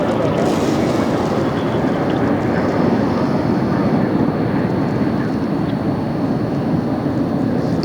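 An All Nippon Airways airliner arriving at LAX from Narita roars loudly and continuously as it passes close overhead, a broad, sustained jet rumble with no break.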